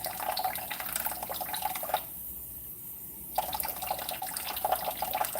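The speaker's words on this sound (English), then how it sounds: "You need cold water, but you're only going to add 2 to 3 tablespoons in here" Cold water poured from a tap into a pot of tomatoes for a ricotta and tomato sauce, a steady splashing stream that briefly stops and then resumes, close by with no talking.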